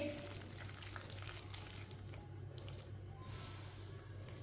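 Potato pakora batter dropped spoonful by spoonful into hot frying oil for crispy aloo pakora, giving a steady, dense sizzle and crackle that holds evenly throughout at moderate volume, with no voices.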